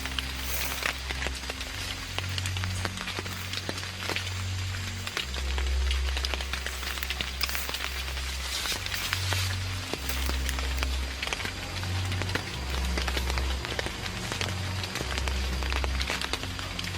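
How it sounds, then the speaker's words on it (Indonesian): Heavy rain falls steadily and densely on surfaces, a continuous loud hiss with a low rumble underneath throughout. "meskipun cuaca yang sedang diguyur hujan"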